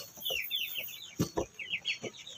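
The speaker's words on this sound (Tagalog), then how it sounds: "magpapatuka ako ng manok" Hens clucking in quick, overlapping bursts close by as they are fed in a backyard farm, with a few louder squawks breaking through the chatter.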